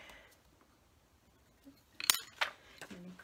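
A few crisp snips of scissors cutting paper sound close and fairly quiet after a near-silent stretch, with one sharp cut followed by a couple of smaller ones.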